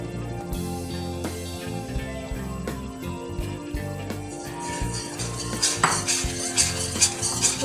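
Metal spoon clinking and scraping against a pan while stirring milk with added milk powder, steady repeated clatter growing brighter and sharper toward the end, close and fairly loud.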